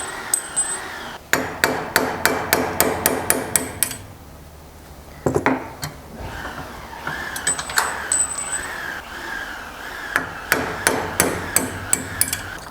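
Rapid series of ringing hammer strikes on a clamped VW Golf Mk1 race car part, close and loud, broken by a brief pause and a clunk, then more bursts of blows.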